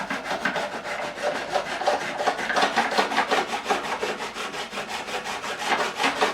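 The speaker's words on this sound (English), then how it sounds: "Again, another super flat file. This is a diamond file." Diamond file rasping across fret ends on a 2005 Gibson Les Paul during a refret, a close, rhythmic back-and-forth scraping of even strokes, steady and alone.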